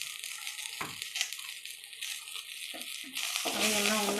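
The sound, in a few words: chilies and garlic frying in a pan for tamarind chutney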